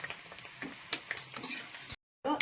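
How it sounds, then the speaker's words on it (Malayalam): Small coconut pieces fry in hot oil in a pan while a spoon stirs them, giving soft crackling sizzle with a few sharp metallic scrapes and clinks, then a brief silence before stirring resumes. "തേങ്ങ കൊത്തുകൂടി വറുത്ത് മാറ്റുവാണ് ഇത് നല്ല ഗോൾഡൻ ബ്രൗൺ ആയിട്ടുണ്ട്"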